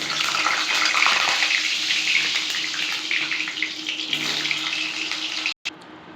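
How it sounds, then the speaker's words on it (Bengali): Potato pieces frying in hot oil in a kadai give a steady, dense sizzle that holds loud and continuous, briefly cutting out near the end. "প্রথমে আমরা আলুগুলোকে ভেজে নিচ্ছি।"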